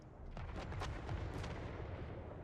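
Artillery gunners firing in a Total War video game battle: a dense, rolling volley of booming shots and rumbling blasts over a couple of seconds, loud and continuous, with no voices.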